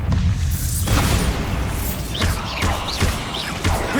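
Bombarda blasting spell exploding in the Hogwarts Legacy video game, a heavy booming burst followed by rumbling debris and further crackling impacts over continuous game background noise.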